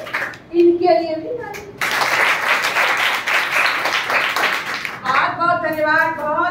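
Many hands clap together for a few seconds in a sustained, fairly loud burst from a competition audience, with someone talking just before and right after.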